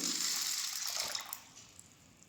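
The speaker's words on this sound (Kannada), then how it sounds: "ನಾನು ಒಂದು 2 ಸತಿ ವಾಶ್ ಮಾಡಿಬಿಟ್ಟು ನೆನೆಯೋದಕ್ಕೆ ಹಾಕ್ತೀನಿ." Grains with fenugreek are swished and rinsed in water in a kitchen before soaking, making a steady splashing, pouring wash that fades toward the end. The sound is close and fairly quiet, with no talking.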